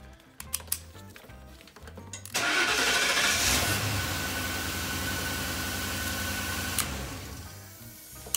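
A Crown Victoria police car engine in a 1952 Customline swap is cranked with an ignition switch: a few clicks and a brief starter whir, then the V8 catches abruptly and settles into a loud, steady close idle with a slight rev near the end.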